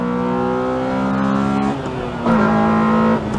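Honda Civic Type R EK9 engine accelerating hard, a loud close high-revving tone climbing steadily, briefly dipping at a gear change, then pulling strongly again.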